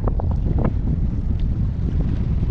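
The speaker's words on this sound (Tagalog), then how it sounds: "Narinig nyo sa camera natin. Grabe lakas ng hangin." Strong wind batters the microphone during ultralight fishing in the Philippines, a constant low roar, loud and close, with faint scattered clicks over it.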